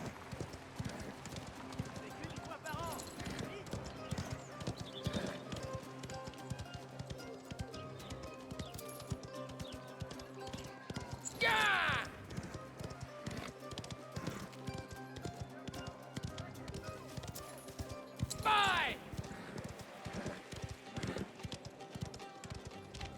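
A horse gallops with steady, rapid hoofbeats in Mafia: The Old Country, the clip-clop rhythm continuous and fairly close, with occasional louder snorts or whinnies as people talk over it.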